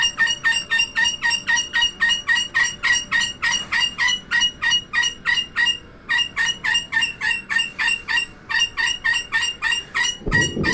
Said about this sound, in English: I had to uncover her because the bird will not shut up until she gets it.